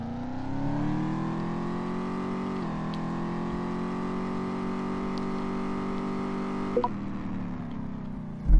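A 1967 Ford Mustang's engine in the racing game Juiced, revving on a dynamometer: a loud, sustained engine drone that climbs, holds at high revs for several seconds, shifts pitch, then drops off with a brief clatter.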